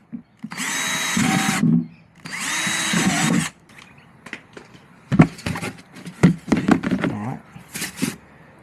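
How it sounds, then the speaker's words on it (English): A power drill bores drain holes into a small boat's tackle storage container in two sustained bursts of whining motor noise, each lasting about a second, followed by scattered clicks and handling knocks. "I'll drill some holes"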